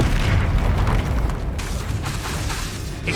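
A Confringo blasting spell explodes in the video game Hogwarts Legacy, a loud, deep, rumbling blast with heavy low-end boom that sustains and slowly settles across the clip.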